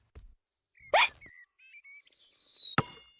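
A cartoon piglet hiccups during a ball game: a sharp voiced burst near the start, then squeaky whistle-like tones and a final abrupt hiccup, all close and fairly loud with no talk.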